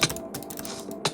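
Rapid butterfly clicking on a gaming mouse during Minecraft Bedwars, a quick burst of sharp, close plastic clicks in short uneven clusters, with no talking.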